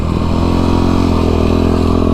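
A 2003 Yamaha YZ450 dirt bike engine runs loud and close on sand, with a steady, throbbing four-stroke rumble and no talk over it.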